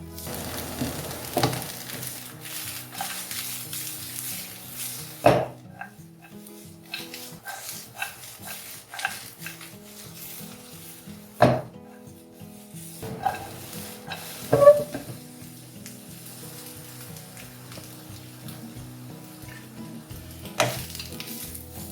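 Vegetables for chicken chowmein stir-fried in a hot pan: a steady sizzle under repeated spoon scrapes, with a few sharp metallic clanks against the pan. Close and moderately loud, with no talking.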